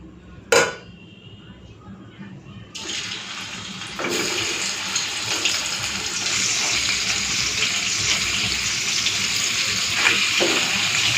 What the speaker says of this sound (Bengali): তো এখন এই পনিরগুলো ভেজে নেব